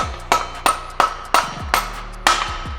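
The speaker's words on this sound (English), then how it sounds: "So I smack it in with a mallet hammer or something if it's hard to push back through." Mallet smacking the rear wheel of a KTM Duke motorcycle back into place during a chain replacement, six sharp close blows at a steady rhythm with brief metallic ringing after each.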